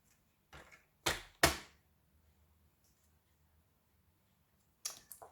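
Scissors cutting coloured paper for a shaker card, a few sharp crisp snips in two short clusters separated by near silence, close and fairly quiet, no talk.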